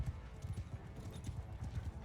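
Horse hooves in the video game Bannerlord, rapid rhythmic clip-clop of a galloping mount, low and muffled amid battle ambience, with a voice talking faintly underneath.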